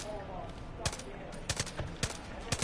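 MP34 submachine gun fire in Far Cry 5, with several short sharp bursts of shots spread across the moment and loud against a busy game background.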